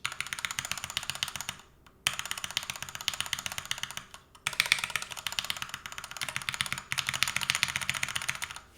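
Rapid typing on an NK65 prototype mechanical keyboard, a dense stream of crisp clicky keystrokes in bursts with short pauses between, close and fairly quiet, no talking.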